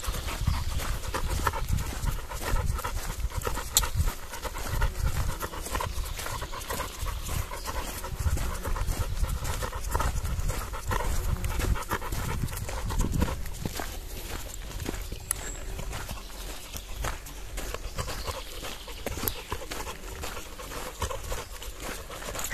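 An American bulldog pants steadily and rhythmically close by while walking outdoors, quick breaths continuing throughout with light footsteps and pattering underneath and no speech.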